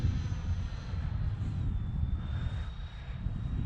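Freewing F-14 Tomcat RC electric ducted-fan jet flying over grass, a steady, fairly loud rushing whine that holds throughout, with a faint pitch shift as it passes.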